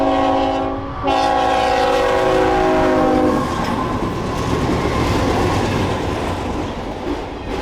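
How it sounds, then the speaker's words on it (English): BNSF freight train led by GE GEVO locomotives nearing a crossing by Justin, Texas, its chord horn blaring loudly before the roar and rumble of the passing cars take over, with no talking. "a train would quickly approach."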